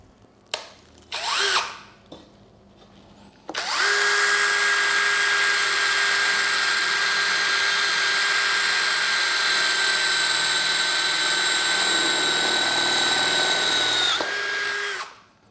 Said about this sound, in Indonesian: speed 2 lebih cocok di bor ini